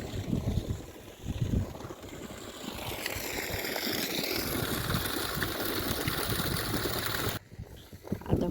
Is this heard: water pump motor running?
yes